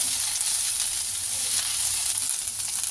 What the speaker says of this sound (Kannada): ಆ ರೀತಿ ಇದನ್ನು ಫ್ರೈ ಮಾಡ್ಕೊಳ್ಳೋಣ